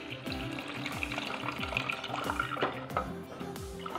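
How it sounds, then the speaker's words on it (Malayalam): Milk is poured into a warm pan for a fruit jelly cake, making a close, continuous liquid splash with light bubbling and a faint sizzle. "നമ്മളെടുത്ത് വെച്ചിരുന്ന പാല് ഒഴിച്ചു കൊടുക്കാം"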